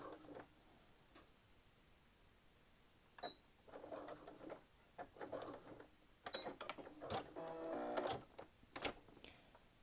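A sewing machine stitches fabric for a wine bottle gift bag, running in several bursts of rapid mechanical clatter separated by brief pauses, fairly close and moderately loud, with no talking.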